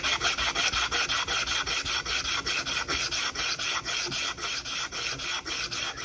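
A steel knife blade is rubbed flat on 80 grit abrasive with loud, gritty back-and-forth strokes, each one close and harsh, repeating in a steady, even rhythm with no talking.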